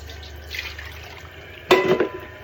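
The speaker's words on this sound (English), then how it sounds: "Rinsing my bowl." A bowl rinsed under a running kitchen tap that had corn in it, with a low steady water hiss and a louder splashing burst near the end as the bowl meets the stream.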